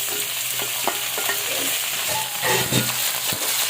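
About half a kilo of boneless chicken fries in a pan, giving a steady, close sizzle with scraping and stirring clatter throughout and no talking.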